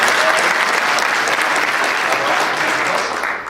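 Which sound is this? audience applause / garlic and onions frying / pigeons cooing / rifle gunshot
audience applause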